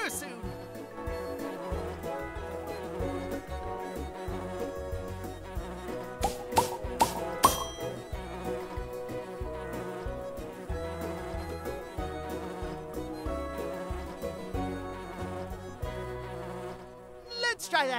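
Bees buzz in the Nature Cat Pollinator Pathway video game, a steady insect drone running under dense, continuous game music with no pauses.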